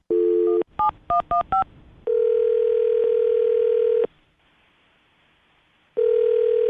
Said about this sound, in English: we'll call her right now and see if we can get her on the phone